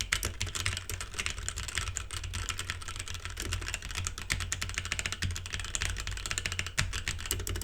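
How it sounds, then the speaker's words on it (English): Steady, rapid typing on a computer keyboard, a dense stream of light clicks and taps close by with no voices. "we'll see if that cardioid pattern helps reduce some of those sounds from the keyboard as well."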